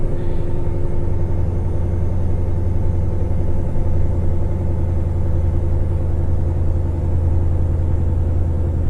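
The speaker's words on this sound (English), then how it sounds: "Hear the noise of the engine change." A car engine drones steadily while climbing the steep Berriedale Braes, a loud, constant low rumble with a faint droning whine layered over the road noise, unbroken and without voices.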